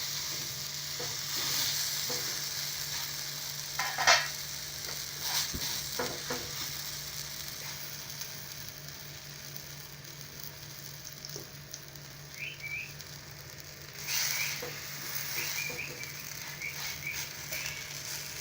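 Cucumber chilla frying in oil on a pan, a continuous soft sizzle with occasional stirring or turning clatter and brief higher whistling tones.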